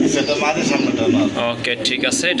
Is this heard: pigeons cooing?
yes